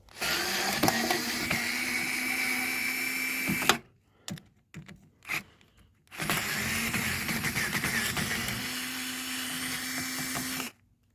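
A power screwdriver or drill unscrews the four screws holding a microwave transformer, whirring loudly and steadily in two long bursts with short clicks and quiet gaps between them.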